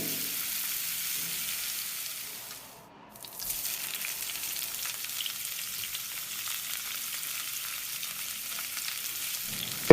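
Sliced garlic and onion fry in hot oil for a chickpea fry, giving a steady, close sizzling hiss that dips briefly into a near-quiet lull before carrying on evenly. No one speaks.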